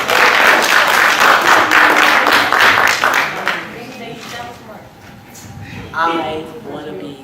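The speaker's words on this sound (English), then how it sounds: "Everybody clap it up for Mason." Audience applause for Mason, a boy who wants to play in the MLB, at a motivational session: dense, loud clapping for about three and a half seconds, then fading under a speaking voice.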